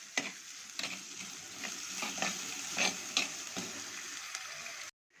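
Chopped onions with salt sauté in a pan for chicken gravy, making a continuous close sizzle broken by repeated stirring scrapes, then cutting to silence at the very end.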